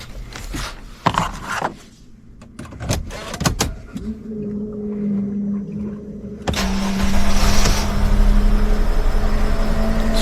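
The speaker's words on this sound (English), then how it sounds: "The engine is running." A Sprinter van's engine starts after an oil cooler replacement, first some clunks and mechanical clicks, then a steady idle hum with a low tonal drone that swells louder once the engine catches and keeps running.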